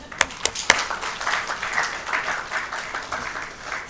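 Applause from an audience in a room at a Women's Day gathering, a few sharp claps at the start swelling into a steady patter of many hands that carries on throughout, moderately loud and without talk.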